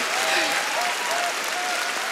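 An audience at a women's stand-up comedy show breaks into continuous applause, a dense, even wash of clapping with faint whoops rising briefly through it.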